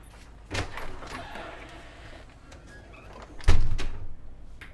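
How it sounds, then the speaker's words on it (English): A door is handled twice, with a soft thump early on and a louder knock or latch clunk later, set against a quiet room with faint background rustle. "I'm gonna open the door"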